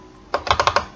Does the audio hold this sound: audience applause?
no